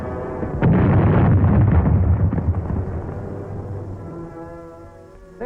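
A WWII film explosion erupts with a loud, deep boom that rolls and rumbles for several seconds, slowly fading into a low, diminishing roar.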